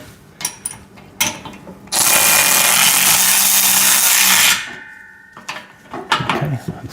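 Bolts are tightened on a VEVOR pec deck and rear delt home gym machine: scattered metal clanks and knocks, then a loud sustained grinding burst of a few seconds, then more clanks.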